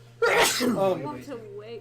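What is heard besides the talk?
sneeze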